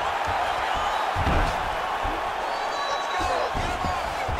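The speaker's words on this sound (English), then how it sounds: "crowd just loving it as the fighters, after an extended grappling battle, make their way back to the field" Arena crowd at a UFC event roaring steadily as fighters grapple, a dense continuous wall of cheering with some thumps and whoops, commentary voices running underneath throughout.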